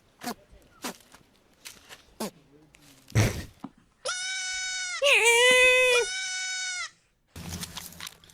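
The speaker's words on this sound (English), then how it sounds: "Have you ever heard of screaming goat?" A goat lets out a long, loud, human-like scream lasting a few seconds, preceded by sharp knocks and thumps and followed by rustling.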